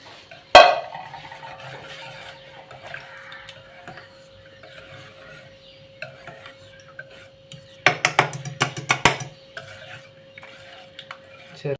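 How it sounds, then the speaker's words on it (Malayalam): Milk is stirred in a pot while making aval milk, a flattened-rice milk drink. Mostly quiet with faint background, it has one sharp clank early on and a quick burst of spoon clinks against the pot near the end. "നമുക്കിത് നല്ലോണം ഇളക്കി യോജിപ്പിക്കണം"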